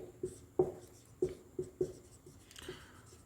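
Pen strokes on paper while a maths problem from an elimination-method exercise is written out, a series of short scratchy taps and strokes in an irregular rhythm, close and fairly quiet with no talk over them.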